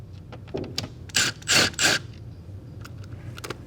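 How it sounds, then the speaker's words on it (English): A power screwdriver tightens Phillips screws on a Lexus GS-F or RC-F front grille, giving three short whirring bursts close by with small clicks and taps from handling around them. "don't use a power screwdriver like I'm using"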